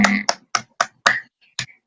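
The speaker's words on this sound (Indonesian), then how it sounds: "Tepuk tangan buat Krisna." A few students in a classroom clap in a short, sparse burst of about six separate, distinct claps that fade quickly.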